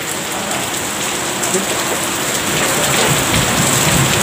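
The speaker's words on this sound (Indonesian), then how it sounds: "Hujan." Steady heavy rain falling at night, a dense close hiss of drops on surfaces that swells slightly toward the end, with no voices.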